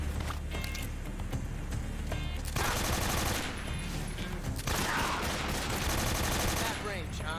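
Rapid AK-47 gunfire from the video game Metal Gear Solid 3 crackles in dense bursts over game music and ambience, with a player's voice talking over parts of it.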